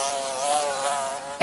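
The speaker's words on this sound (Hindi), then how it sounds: "ए मक्खी शू।" Buzzing housefly in an animated jungle cartoon, a steady close insect drone with slight wavering pitch that runs continuously for the whole moment, alone without voices.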